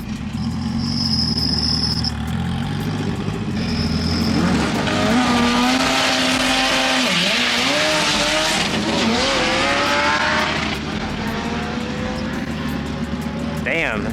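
A fully built hatchback launching at a drag strip: a loud, sustained engine roar rising through the revs as the car pulls away, with a tire squeal, staying close and intense before easing off near the end, while voices talk underneath.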